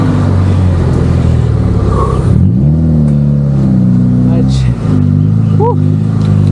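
A motorcycle engine drones and revs steadily while climbing a steep, narrow, cracked road on Route 111, with the pitch rising and dipping through a gear change. A rider talks over wind noise.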